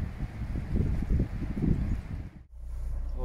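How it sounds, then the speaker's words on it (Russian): Strong wind on a river during a storm test drive of a Sargo 31 boat: steady gusty wind buffets close on the microphone with rustling, briefly dropping out near the end before a steady rumble resumes. "Сегодня сильный ветер."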